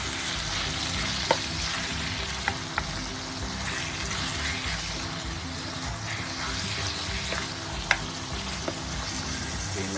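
Ground beef giniling simmers in a pan with peppercorns added, a continuous soft bubbling sizzle with occasional faint clicks and taps, steady throughout without talk.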